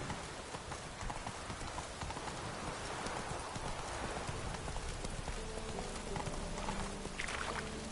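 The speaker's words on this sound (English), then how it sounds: "Come on, Roach." A horse galloping in The Witcher 3: Wild Hunt, with continuous rapid hoofbeats under a dense wash of rain-like ambient noise, fairly faint and steady throughout with no talk.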